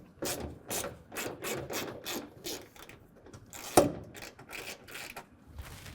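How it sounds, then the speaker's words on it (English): Repeated ratcheting clicks in short bursts as a 10mm ratchet and socket back out a wheel well bolt on a 2015-2020 Ford F-150, close and fairly quiet, with one sharper clack partway through. "we're going to take a 10mm ratchet and socket, or you can use a ratcheting wrench"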